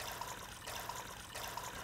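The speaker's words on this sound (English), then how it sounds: "We go into the pot with our water and our milk." Water and milk pour into a pot for choux paste for éclair dough, a soft steady trickle with faint sloshing that swells slightly in a few waves, close and fairly quiet.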